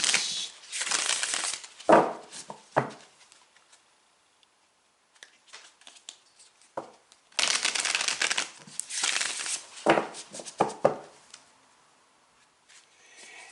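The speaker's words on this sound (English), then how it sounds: "Give these a few shuffles." A deck of affirmation cards is shuffled by hand in several bursts of riffling and sliding, with quiet gaps between them, close and fairly loud.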